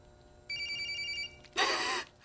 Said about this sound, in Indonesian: Mendengar HP si bewok berdering